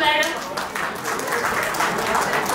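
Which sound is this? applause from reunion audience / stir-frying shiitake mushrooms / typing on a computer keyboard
applause from reunion audience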